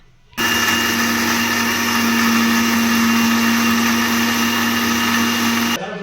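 A kitchen mixer grinds chutney in one steady, loud, high-pitched whirring run that starts abruptly, holds for several seconds and then cuts off, with no talking.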